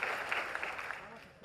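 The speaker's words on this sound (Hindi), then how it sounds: "अमरजीत और अभियान के लिए इतनी जोर से ताली होनी चाहिए" Audience applause at a public event in India, a dense wash of clapping from a large crowd that holds steady, fairly loud and close, throughout.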